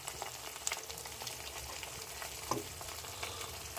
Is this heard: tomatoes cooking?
yes